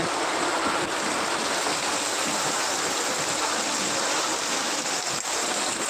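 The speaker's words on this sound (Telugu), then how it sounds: "కమీర్ చూస్తున్నారు కదా వర్షమైతే" Continuous, even hiss of heavy rain pouring down in Udayagiri, a dense unbroken wash of water noise with no voices.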